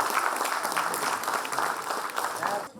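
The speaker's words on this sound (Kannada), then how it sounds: "ಸೊ ಆರ್ಗನೈಸರ್ಸ್ಗೆ ಒಂದು ದೊಡ್ಡ ಚಪ್ಪಾಳೆ ಸ್ನೇಹಿತರೆ" Audience at the Sarthaka Scholarship 2025 ceremony clapping for the organizers, a continuous, fairly loud burst of applause from a seated crowd that fades out at the end.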